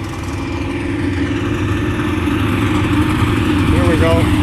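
A Chevrolet SS idling in the pit row at a Sunday drag strip, a steady loud rumbling engine note holding throughout, with people talking nearby over it.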